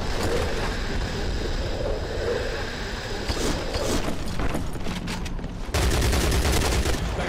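Rapid gunfire from an enemy in the shooter game CrossfireX, dense bursts of shots crackling throughout, loud and close, growing heavier near the end, mixed with game ambience and faint voices.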